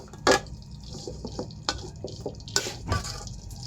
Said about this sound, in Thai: ผัดผัก